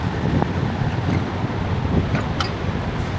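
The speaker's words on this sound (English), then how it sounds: "I didn't realize it was this windy out here." Cold wind gusting outdoors at a truck loading dock, a steady, loud rush of buffeting air across the microphone with no voices.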